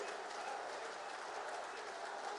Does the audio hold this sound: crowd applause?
yes